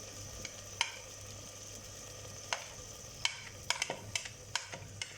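Chopped, pounded green chilies drop into a hot pan and sizzle softly, with a steady low fry broken by a run of quick stirring clicks and scrapes toward the end.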